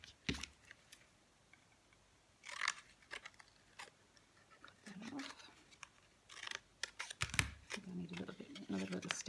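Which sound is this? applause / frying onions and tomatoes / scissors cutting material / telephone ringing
scissors cutting material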